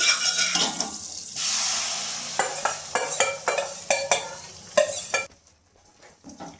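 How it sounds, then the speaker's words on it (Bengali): Egg batter hits a buttered kadai and fries with a hissing sizzle, interrupted by a rapid series of scraping, clanking strokes of a utensil spreading it around, then fading to near quiet. "এবার যে আমি ডিমের যে ব্যাটারটা তৈরি করেছিলাম সেটা আমি কড়াইতে দিয়ে দেবো।"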